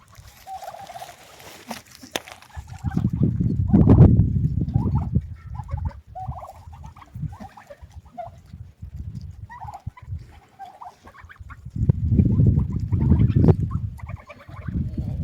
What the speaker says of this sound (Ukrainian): О, гуси пасуться.